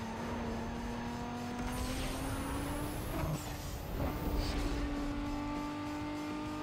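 Race car engine in Need for Speed Underground 2, a steady sustained drone with a rising whine as the car accelerates, loud and continuous with background game music and no speech.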